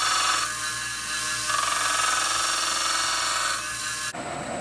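A drill bit held in a lathe tailstock bores into bronze, a steady whirring machine drone with a harsh rubbing, chattering edge that runs continuously, then cuts off sharply near the end.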